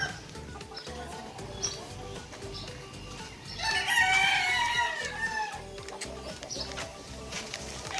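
A rooster crows loudly in the middle of the clip, with chickens clucking and chattering steadily around it throughout.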